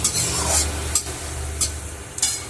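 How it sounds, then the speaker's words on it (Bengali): Onions frying in hot oil until browned: a continuous close sizzle with several brief scraping strokes of a spatula stirring the pan. "পেঁয়াজ দিয়ে লাল করে ভেজে নেব।"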